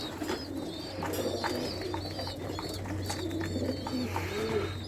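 Pigeons coo softly and repeatedly nearby, low rolling calls over a quiet background with scattered faint chirps and rustling.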